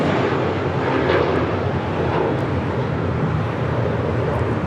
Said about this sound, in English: That is a blue mentality departing to JFK on an A321 JetBlue Airways Flight 524